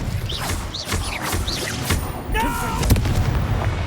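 Incendio and Expelliarmus spells cast in the Hogwarts Legacy video game, a quick series of whooshing, crackling magical bursts and thuds with rising tonal zips over a low ambient bed, one after another in close succession.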